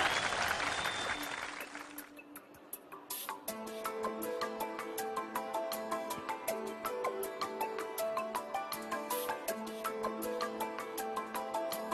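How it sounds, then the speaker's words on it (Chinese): Studio audience applause for a magician on the stage of the 2015 CCTV talent show 'I Want to Go to the Spring Festival Gala', a burst of clapping at the start that gives way to rhythmic stage music. "给他点掌声"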